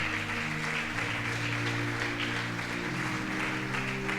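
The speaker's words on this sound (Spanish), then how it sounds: "Denle ese aplauso al Señor" Applause from a church congregation fills the room steadily, with sustained low musical tones running underneath throughout.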